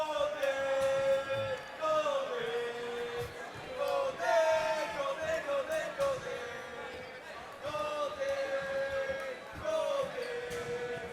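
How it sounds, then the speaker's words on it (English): Manitoba supporters chant rhythmically from the stands at a men's semi-final of the 2019 Canadian National Dodgeball Championships, the crowd's voices rising and falling in repeated waves that fill the arena. "You can tell where the Manitobans are in the crowd. They're chanting."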